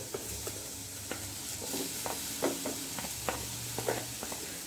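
Potato pieces frying in a kadai for turnip curry, with a soft continuous sizzle broken by irregular scraping and clinking as a spoon stirs them, close and moderately quiet.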